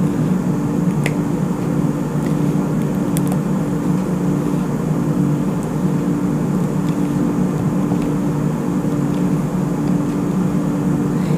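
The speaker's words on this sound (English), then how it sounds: "If you hear a noise in the background, it's our pellet stove." Pellet stove running in a room, its fan producing a steady, continuous broadband whir and hum that holds level throughout, with a few faint clicks over it and no talking.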